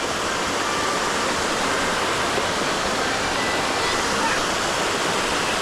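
A waterfall at a jumping spot in Australia roars as a constant, loud wash of rushing water that stays steady throughout and drowns out everything else.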